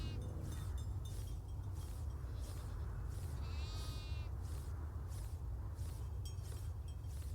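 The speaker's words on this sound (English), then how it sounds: "You see, these are new goats compared to the ones that we had on Farm Together." Goats in the farming game Farm Together 2 bleat several times, short nasal calls spaced over a constant low hum of game ambience.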